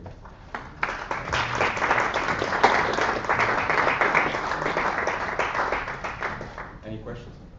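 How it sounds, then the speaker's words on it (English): Sustained applause from the audience at a student senate meeting, a dense, even wash of clapping lasting about seven seconds with voices mixed in, trailing off at the end. "I actually got a little certificate, so you can clap it out, please."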